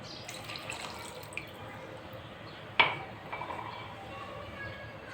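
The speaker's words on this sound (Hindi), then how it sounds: "पैन को मैंने रख दिया है चूल्हे पर और अब मैं इसके अंदर डालूँगी 2 गिलास भर के पानी के" Water from a glass is poured into a pan sitting on a stove, giving a soft liquid splash and trickle, with one sharper splash and some dripping near the middle.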